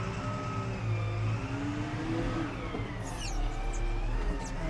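A Kalmar DCG180 40,000 lb diesel forklift runs in reverse, with a steady engine drone, some revving as it moves, and a repeating reverse warning tone, fairly close and with no voices.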